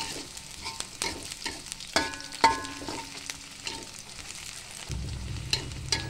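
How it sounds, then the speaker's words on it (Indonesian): Garlic goes into a pan of frying shallots for a chicken-feet soup base, bringing sharp clinks of a spatula against metal over a low, rising sizzle that swells louder near the end. "Setelah bawang merahnya harum, lalu masukkan bawang putihnya."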